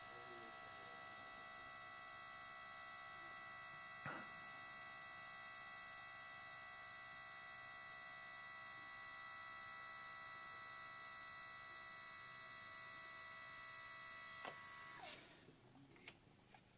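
An HP Sprocket ZINK mobile photo printer runs in a quiet room, giving a faint, steady whirring hum with a soft click near the middle and a few small knocks toward the end.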